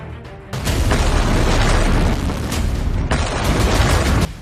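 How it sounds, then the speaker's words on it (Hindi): A drone explodes at the Barakah nuclear plant with a sudden loud, sustained roaring blast that fills the scene for several seconds and is then followed by a second surge of rumbling noise. "यह ड्रोन धमाका बराका परमाणु प्लांट पर हुआ।"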